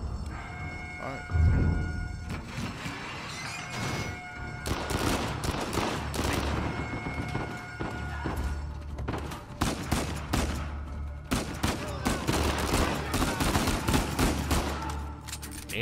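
Rapid bursts of gunfire from a weapon in Uncharted 4 crack and rattle in repeated volleys over a low game rumble, loud and close, with dense clusters of shots through most of the stretch.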